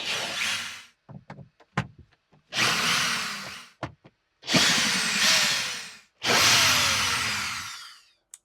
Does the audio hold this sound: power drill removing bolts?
yes